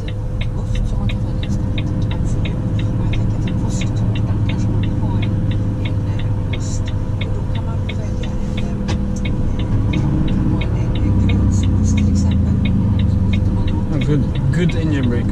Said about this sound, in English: Good engine brake on this thing